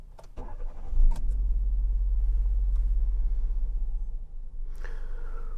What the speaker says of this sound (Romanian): apoi pornim motorul